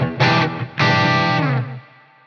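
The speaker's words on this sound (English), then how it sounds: "So it's driving the front a little bit harder, and as you can hear, we've got that short delay." Electric guitar run through a pedalboard with a Panther Cub volume boost pushing the amp's front end, two loud distorted strummed chords ringing out with a short delay trailing off at the end.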